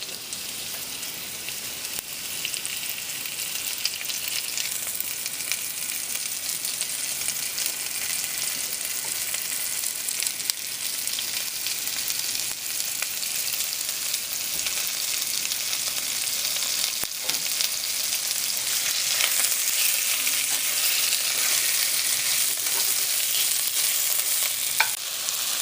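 Beef browning in a cast iron Dutch oven over medium heat, a dense, continuous hiss of sizzling fat with faint crackles and occasional stirring, steady and close, no talking.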